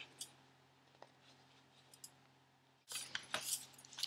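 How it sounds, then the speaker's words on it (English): Scissors snipping through denim while shredding a pair of shorts, a cluster of loud, crisp cuts arriving close up after a quiet stretch of faint clicks. "you're then going to stick your scissors into the other hole and do the same thing"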